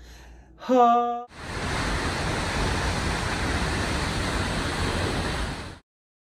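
Havasu Falls roars as a dense, loud, steady rush of falling water, preceded by a short tonal note and cutting off abruptly at the end.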